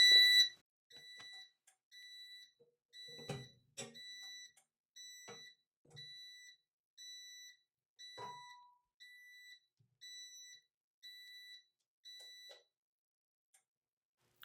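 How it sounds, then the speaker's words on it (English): A tumbler heat press emits a repeating pattern of high-pitched electronic beeps in steady short bursts, with occasional soft clicks and handling sounds between them. "this is beeping and beeping and beeping"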